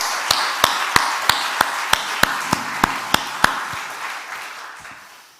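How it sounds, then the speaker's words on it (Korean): Scattered clapping from a church congregation during a worship service, sharp claps landing in a loose, slowing rhythm over a diffuse wash of hands, then tapering off. "박수 한번 합시다"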